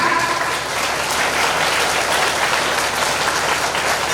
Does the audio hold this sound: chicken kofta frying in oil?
no